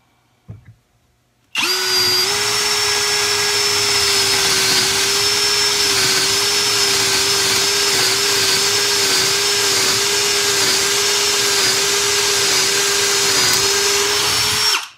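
A cordless hammer drill starts up and runs in low gear with a loud, steady whine, grinding continuously through a wooden 4x4 post for several seconds before stopping abruptly.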